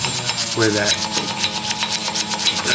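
Steady back-and-forth scrubbing of a stiff brush against hard Honda S2000 car parts, close and loud, with a brief voice murmuring partway through.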